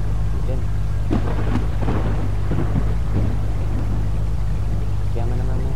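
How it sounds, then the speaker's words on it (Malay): Rain and thunder inside a taxi driving video game: a steady, loud hiss of rainfall with low rumbling underneath, while a voice talks over it in short bursts. "Hujan."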